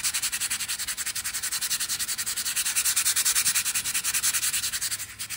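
Surface rust being scrubbed off a cast iron griddle, a rapid rhythmic back-and-forth scraping, close and steady, with no talk.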